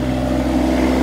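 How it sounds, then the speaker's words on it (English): Yanmar tractor engine running at a steady mid idle on a snowy farm, a close, continuous low rumble with an even hum throughout, no voices. "I'm going on the tractor."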